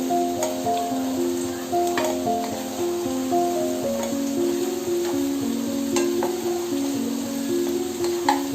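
Paneer frying in oil in a kadhai makes a steady, loud sizzle that carries on throughout, with a few faint clicks of stirring over a constant background hum.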